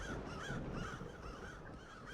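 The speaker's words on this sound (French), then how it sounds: "Oh, il y a trop d'oiseaux là." Crows caw over and over in the Roblox game Doors, a faint, steady, raspy calling with no pause and no voices.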